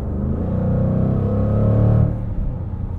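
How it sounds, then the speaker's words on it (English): Jaguar F-Pace SVR (2021) engine and exhaust with an 8-speed automatic, a loud steady growl under load that rises for about two seconds, then drops off as a shift comes through. "The most exciting thing about this engine and exhaust is the pops and growls between shifts."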